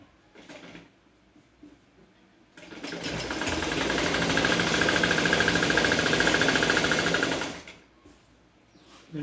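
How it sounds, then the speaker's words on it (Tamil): A sewing machine stitches along the edge of a cloth mat, running in one steady, loud, rapid mechanical burst for about five seconds. Brief handling clicks come before and after it. "இந்த மாதிரி ஓரமா தையல் போட்டுருங்க"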